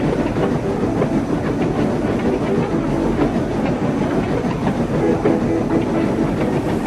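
A heavy steam train pulled by two engines runs along the rails, giving a loud continuous rumble with steady clickety-clack and hiss, unbroken for the whole stretch with no voices.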